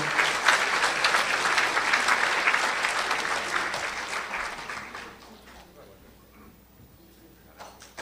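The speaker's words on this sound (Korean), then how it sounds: "여러분 힘찬 박수로 맞아주십시오" Loud, sustained applause from an audience at a ceremony marking the sixth anniversary of the October 4 inter-Korean summit declaration, welcoming the Democratic Party floor leader to the stage. The clapping stays dense for about five seconds, then thins and fades.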